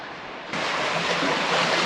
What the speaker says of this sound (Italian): Ma qui scorre proprio l'acqua